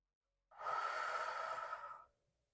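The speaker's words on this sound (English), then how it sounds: "Breathing." A single long, audible breath during a yoga leg and foot strengthening exercise, a steady airy exhale lasting about one and a half seconds, close and soft, with nothing else around it.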